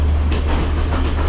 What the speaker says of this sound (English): It's a very rocky train as well.